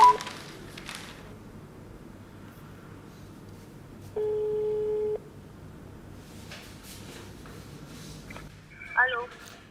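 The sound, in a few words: telephone call tone while calling advertisers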